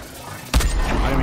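A single sharp gunshot from a video game weapon, loud and close, cutting through a muffled game background with voices talking nearby.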